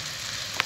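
Honey syrup boiling in a pot on the stove, a steady close bubbling hiss with a tiny pop near the end, the whole sound very brief.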